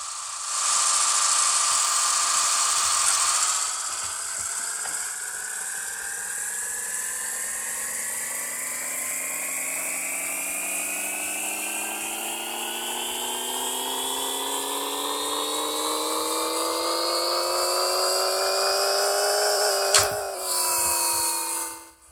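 Nissan/Datsun 240Z engine in Pixel Car Racer revving on a dyno: a steady whine climbs smoothly in pitch for about seventeen seconds, then cuts off sharply and settles, loud and alone.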